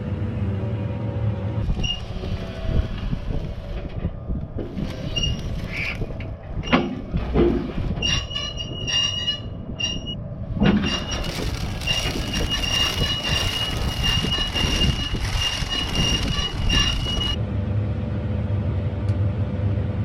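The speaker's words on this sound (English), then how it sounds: "I have to back these harrows up one side at a time. These hydraulics move the back wheels." Farm hydraulics fold harrow wings and shift the rear wheels, giving a steady loud mechanical drone with a thin high whine that starts partway through and holds under a rumbling engine.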